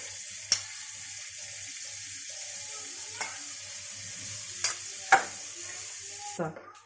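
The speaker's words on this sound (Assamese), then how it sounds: "একেটা কেৰাহীতে মই ইয়াতে বাটাৰ দি দিছোঁ।" Butter gives a soft, low sizzle in a hot kadai, with a few sharp clinks and taps of a utensil, quiet and close.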